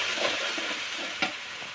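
Duck curry sizzling and frying in a pan as ground chili paste goes in, a steady bright hiss with soft stirring scrapes and a short sharp sizzle burst near the end.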